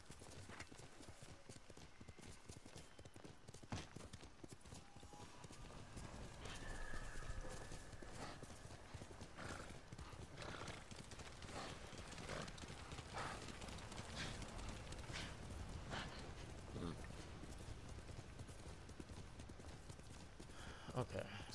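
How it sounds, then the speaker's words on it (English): In the open-world game Ghost of Tsushima, a horse gallops with steady rhythmic hoofbeats and occasional whinnies, faint and continuous beneath someone talking throughout. "You're a good horse"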